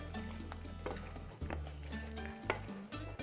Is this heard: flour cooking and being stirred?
yes